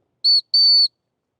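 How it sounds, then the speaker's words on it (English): A dog training whistle for a Weimaraner sounds two shrill, steady blasts, a short one then a longer one, close and loud against silence. "so I'm going to blow the whistle"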